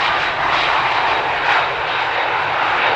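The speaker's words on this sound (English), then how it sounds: "the CRJ from SAS just touched down" A CRJ regional jet operated by SAS lands on runway 18R at Amsterdam Schiphol, its engine roar loud, broad and steady throughout, with no voices.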